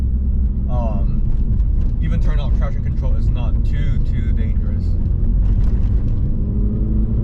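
Road noise and interior rattling inside a Mini Cooper JCW during normal driving, a constant low rumble with light knocks and rattles throughout, while someone talks over it.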